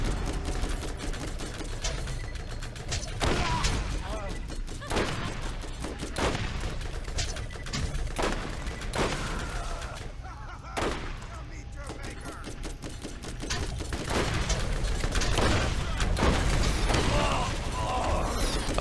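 Rapid gunfire from a weapon in Borderlands, dense fast bursts of shots repeating across the whole stretch, loud and mechanical-sounding over game noise.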